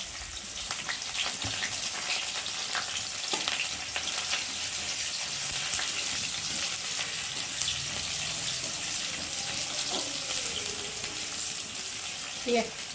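Green chillies and chopped onion fry in hot oil, giving a steady, continuous crackling sizzle with occasional stirring clinks throughout.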